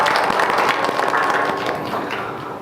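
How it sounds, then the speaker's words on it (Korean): A church congregation applauding together at Cheorwon Manna Church, a dense, continuous patter of many hands clapping that fills the room and slowly tapers off. "이곳에 불러주신 하나님께 영광의 박수 올려드리겠습니다"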